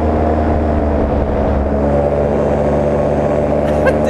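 A 2015 Air Trike powered paragliding trike's paramotor engine runs just below quarter throttle, a steady, close, loud drone with an even buzzing hum and no talking.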